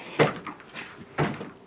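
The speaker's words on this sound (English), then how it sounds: "the drawer won't close" A closet drawer that sticks and won't shut properly is pushed, giving two distinct wooden knocks about a second apart, close and fairly loud in a quiet room.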